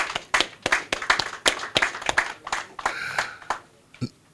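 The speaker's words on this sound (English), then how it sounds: "I think we deserve another round of applause," An audience at a Bureau of Standards anniversary ceremony gives a round of applause, heard as a loose rhythm of distinct, fairly close hand claps that thin out and stop after a few seconds.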